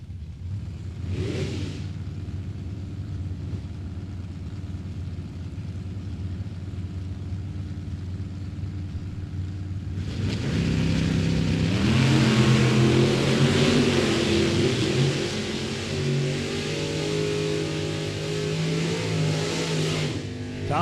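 Drag race cars, one of them a Mopar, launch down the strip at Mid Michigan Motorplex. A low, distant rumble gives way midway to a loud, sustained roar that holds for several seconds, then eases off.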